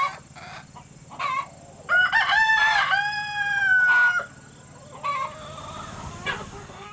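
On a farm, a rooster crows loudly and clearly close by, with chickens clucking in short bursts before and after.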